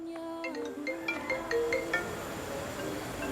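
Melodic phone ringtone chiming for an incoming call, a repeating sequence of bright electronic notes, clear and close with no talk over it.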